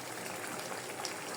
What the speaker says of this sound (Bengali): এখন আমি পরিমাণ মতো ঝোলের পানি দিয়ে দেব।